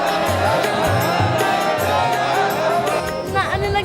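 Pilgrims at the Maha Kumbh gathering in Allahabad make a dense crowd murmur, with chanting or amplified voices rising and falling in rhythmic pulses throughout.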